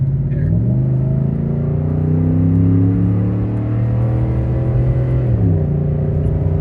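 A Ford F-150 with the 5.0 V8 and an MBRP cat-back exhaust accelerates on a dirt road, its engine droning loud and steady as revs climb, dropping once through a smooth gear shift before pulling again.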